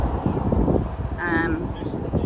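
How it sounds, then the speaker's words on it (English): Loud, gusty wind buffets the microphone with a constant low roar, while a voice briefly speaks over it. "It's extremely windy out here, so the audio is going to be really bad"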